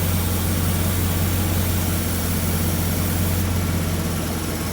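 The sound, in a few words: Lincoln Town Car engine idling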